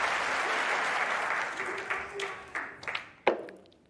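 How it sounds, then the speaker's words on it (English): A snooker crowd applauds Mark Selby's century break at the Masters, a steady wash of clapping that thins out near the end into a few scattered, louder claps. "His wife Vicky claps on."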